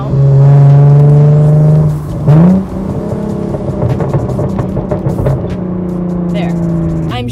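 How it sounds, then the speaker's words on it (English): A car engine given tiny, light taps on the gas pedal, rising in pitch in short revs over a steady idle hum, with one brief blip near the start and smaller revs afterward; no talking. "my foot would be on the gas pedal just going like this. Like giving it literally just tiny little taps."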